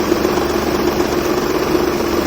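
A steady, low idle from a 1997 Maruti 800 car engine hums on without a break, a constant rumble with a slight vibrating buzz and no voices.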